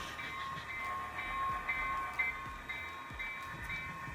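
A train rumbles steadily in a train app, with a faint wheel clatter and a thin high tonal whine over the low running noise, moderately loud and continuous.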